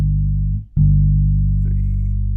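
A bass guitar sounds a low note, breaks briefly, then sustains a long ringing note, played as a quarter note followed by a dotted half note, close and clear with no voice over it.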